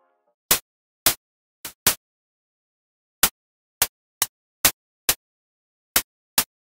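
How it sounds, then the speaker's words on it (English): Eleven short, choppy snare hits made from enveloped white noise in FL Studio, each a crisp broadband burst with a fast decay, spaced irregularly with silence between. "Yeah, I like my snares to be choppy like that"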